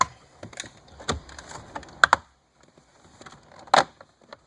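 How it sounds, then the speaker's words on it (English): A plastic pry tool works dash trim loose around the factory navigation screen of a 2012 Chevrolet Camaro, giving sharp plastic clicks and creaks in uneven bursts, close and fairly loud, with quiet gaps between. "we're going to do the same thing with our plastic pry tool remover. Just going to get in here around the screen, kind of work it out"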